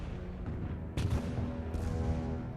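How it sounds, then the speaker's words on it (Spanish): Distant explosions thud and boom twice against a low rumbling background, each blast sharp at onset then rolling away. "el sonido de las explosiones rompe el silencio."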